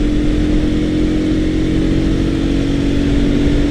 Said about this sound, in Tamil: பயங்கரமாக ஒரு பைக் ஒன்று கிராஸ் பண்ணி போச்சு